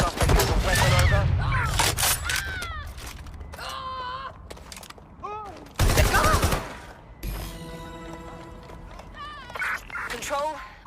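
Shotgun blasts in the open-world action game Watch Dogs: Legion, a few loud sharp bursts spread through the scene, mixed with police radio chatter, shouted voices and mechanical game effects.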